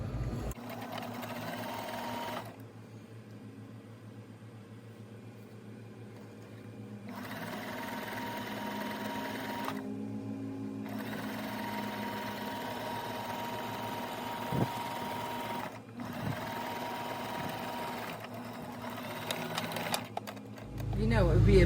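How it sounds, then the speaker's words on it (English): A sewing machine runs along the back seam of a homemade mosquito net with a steady, close motor hum, stopping briefly a few times before starting up again. "I am going to sew up this back seam"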